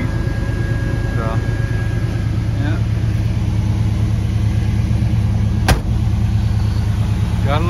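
A 1969 Dodge Super Bee with a 440 Six Pack V8 runs at a warm idle, a loud steady rumble throughout with a sharp click near the end, and people talking over it.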